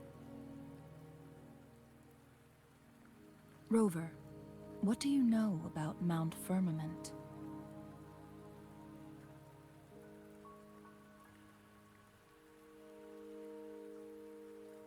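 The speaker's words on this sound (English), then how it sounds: "Don't worry, the rain won't last much longer." Steady soft rain patters throughout a Wuthering Waves game scene, a continuous hiss under gentle background music, while a voice speaks briefly near the middle.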